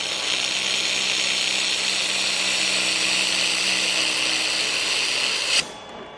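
An X Laserlabs X1 handheld laser welder tacking metal gives a steady, loud broadband hiss and buzz that runs unbroken for about five and a half seconds, then cuts off abruptly, leaving a quieter hum.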